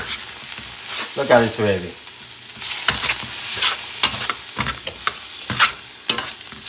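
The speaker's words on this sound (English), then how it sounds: "I'm going to start mixing the sofrito with the seafood" Sofrito and seafood are stirred together in a hot pan for Spanish seafood rice, with close scraping stirs and a continuous sizzle; someone speaks briefly early on.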